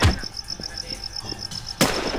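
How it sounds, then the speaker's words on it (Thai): Gunfire in the Infestation survival shooter game, a single sharp, loud broadband crack near the end over a steady insect-like chirping ambience with faint scattered thuds. "อุ๊ยเสียงปืน"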